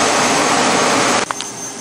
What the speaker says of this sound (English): Switch on air exhaust. Switch on forced air start.